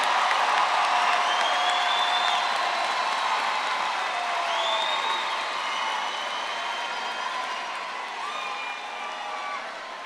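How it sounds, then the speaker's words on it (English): A commencement crowd applauds the graduates, a steady wash of clapping and cheering with scattered whoops and whistles that holds loud throughout and fades slightly toward the end. "Let's give our graduates another round of applause"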